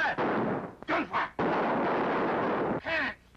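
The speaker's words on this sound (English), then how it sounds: "Gunfire! Cannons! Revolution!" Heavy gunfire and booming cannon blasts from an old Hollywood action movie, a dense roar of overlapping loud bursts with brief gaps between volleys and a short fade at the end.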